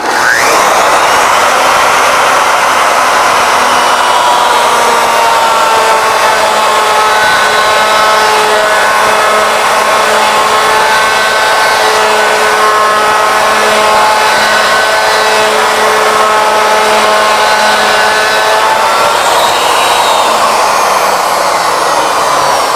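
A Legacy ornamental mill cuts wood as a handle drives the carriage along its lead screw, producing a loud, steady, close whirring motor drone with a sustained cutting tone that holds evenly for over twenty seconds before tapering slightly near the end.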